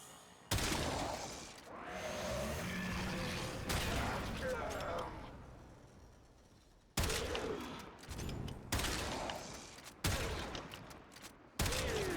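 Weapon shots in the video game Warframe: several sharp, loud bursts, each cutting in abruptly, spaced a second or two apart in the latter half after a longer opening blast, with someone talking between them.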